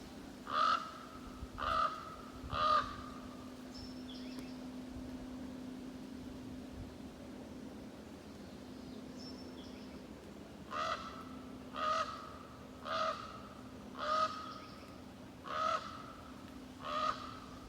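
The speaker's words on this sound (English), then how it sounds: "up on top of one of the towers I could hear a common raven croaking" A common raven croaks from atop a tower in two series, three deep hoarse calls first, then a longer run of six or seven evenly spaced croaks over a steady outdoor hum.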